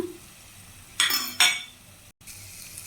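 Spices being stirred into a hot pan while cooking: a faint sizzle under two sharp scraping clinks of a utensil against the metal pan, close by, with a brief dropout afterward.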